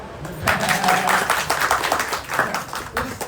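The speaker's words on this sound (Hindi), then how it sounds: "ताली तो बजाओ।" Audience clapping during a Bhagwat Katha religious discourse, a dense burst of many hands close by that rises quickly and holds steady for a few seconds, with a little voice mixed in.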